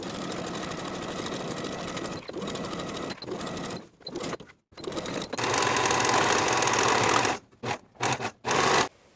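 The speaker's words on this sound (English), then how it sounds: "Sew the pocket facings and pocket linings together with a 5/8 inch seam allowance" A domestic sewing machine runs at a steady whir, stitching pocket facings to pocket linings for high-waisted shorts, with a few short pauses and stops between runs.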